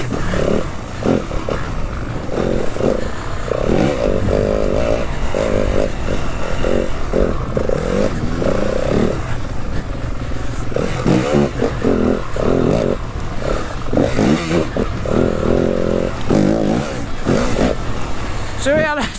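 A 2022 Yamaha WR250F dirt bike riding extreme hard enduro terrain, its engine revving in repeated hard bursts with scraping and clatter, loud and close, while a person talks over it.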